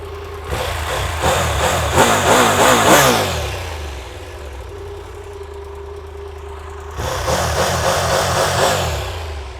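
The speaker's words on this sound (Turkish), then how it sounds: "Hemen bir de egzozun sesini dedim." Triumph Tiger 1200 Rally Explorer motorcycle engine running with bursts of throttle revving from the exhaust, loud and close, easing to a steady idle before revving again near the end.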